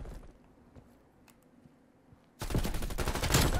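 A teammate's automatic gunfire in Call of Duty: Cold War erupts suddenly after a quiet stretch, a loud, dense, continuous rattle of shots that fills the rest of the moment.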